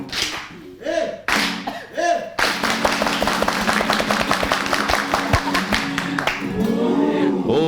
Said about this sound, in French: est-ce qu'on peut applaudir là?